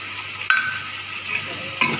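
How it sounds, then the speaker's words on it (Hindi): Ginger, garlic and green chili paste frying in a pan, a close sizzle broken by two sharp spoon-against-pan stirring knocks, with no talking. "इसको भी हम साथ ही फ्राई कर लेंगे"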